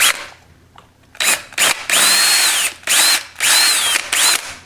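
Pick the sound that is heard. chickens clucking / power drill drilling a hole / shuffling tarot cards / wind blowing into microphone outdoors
power drill drilling a hole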